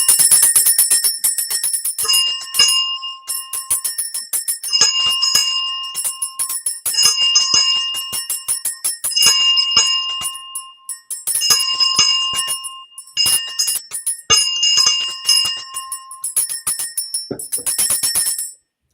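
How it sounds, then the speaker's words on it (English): A bell rung for the children, bright metallic strikes repeating in quick bursts with ringing tones between, loud and close throughout with brief pauses, no voices. "Doing the bell for the children."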